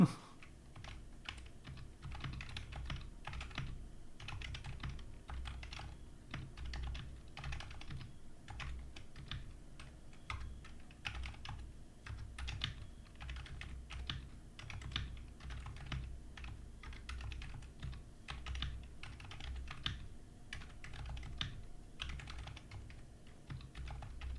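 Fast, steady typing on a computer keyboard during a Monkeytype test, with many quick clacky keystrokes running continuously and fairly quietly, without pauses.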